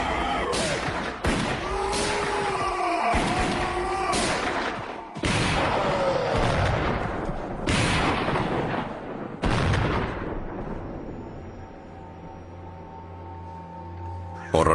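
Russian soldiers fire into a cave, producing a series of loud, sharp gunfire bursts and volleys with rumbling tails. The shots are spaced irregularly over about ten seconds, then fade to a quieter rumble.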